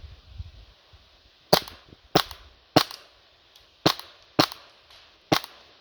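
Six sharp snapping shots from an Action Army AAP-01 airsoft pistol ring out in a steady rhythm, each a crisp loud crack with short impact decay as pellets hit targets, with no talk.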